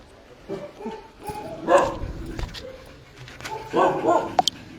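A dog whimpers and yips in short, thin bursts, mixed with a few soft barks, while a person talks nearby.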